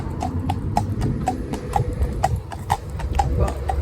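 A horse's hooves clip-clop steadily on a road, about two or three strikes per second, close and clear over a low rumble of passing traffic such as a large truck.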